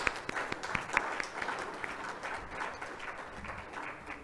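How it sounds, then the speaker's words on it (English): A fairly quiet round of applause from an audience at a business talk on investing in Africa, with distinct individual claps over a soft, steady patter. "I think PK actually deserves another round of applause."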